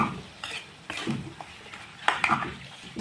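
Spice paste fries in a pan with meat as a utensil stirs and scrapes against the metal, giving close, irregular clinks over a soft sizzle, with no voices.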